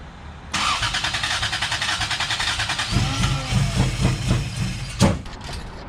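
A Lexus IS300 engine cranks and catches with a rhythmic, pulsing starter churn, firing roughly without settling into an idle, loud and close, ending with a sharp clunk.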